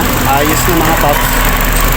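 A vehicle engine, just restarted after its air filter was cleaned, idles with a steady low rumble throughout while someone talks over it.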